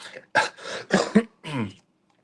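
A few short, raspy coughs and throat-clearing sounds come in quick bursts close to the listener, followed by silence.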